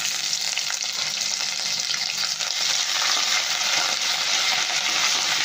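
Ginger fries in hot oil and is stirred in a pan for a vegetarian coconut potato dum, a close, continuous hissing sizzle with faint scraping from the stirring and no voices.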